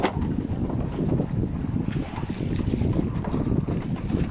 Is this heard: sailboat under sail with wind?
yes